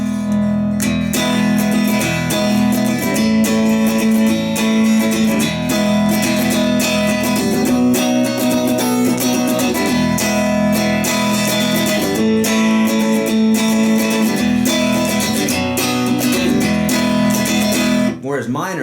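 Guitar plays a bright, cheerful passage in a major key, steady strummed chords with rhythmic accents throughout, loud and close, with no speech over it.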